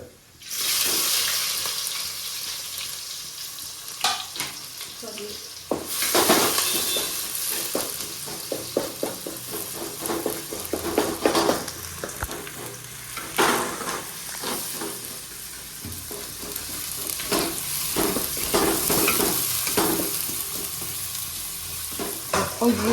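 Chopped onions sizzle steadily in hot oil in a home kitchen in Kochi, Kerala, with a bright, continuous hiss running throughout, broken by frequent clinks and scrapes of stirring.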